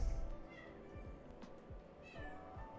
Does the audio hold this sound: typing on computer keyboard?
no